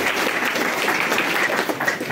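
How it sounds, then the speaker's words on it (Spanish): A short burst of steady applause from a gathered community audience at a Spanish-speaking event, many hands clapping together close and fairly loud. "Les damos también un aplauso a nuestras hermanitas"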